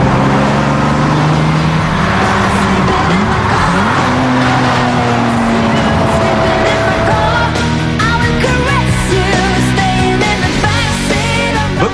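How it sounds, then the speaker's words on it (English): A Bugatti supercar accelerates hard at speed, its engine note rising and shifting through gears, with a sustained roar filling the whole stretch and some tire squeal. "when I get this Bugatti into the turbo zone, no one wags a finger"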